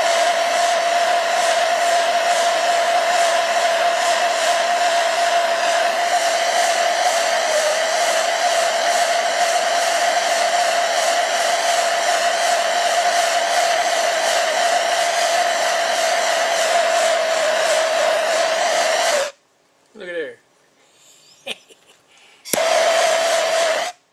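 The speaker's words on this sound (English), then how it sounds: "this wood is just super plain Jane, so I'm gonna torch it a little bit, see if I can bring some of the grain out" A torch flames a plain wood pen blank on a lathe, a loud, steady roaring hiss that holds for about nineteen seconds, cuts out briefly with small clicks and some faint handling noise, then resumes.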